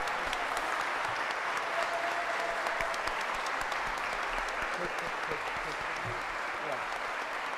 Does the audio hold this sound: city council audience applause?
yes